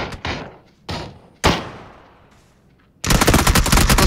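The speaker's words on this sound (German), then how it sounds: "Jetzt schießt du auf die, wo der drauf schießt." Gunfire in the video game PUBG: a few loud single shots with ringing decay, then a sudden sustained burst of rapid automatic fire, close and sharp.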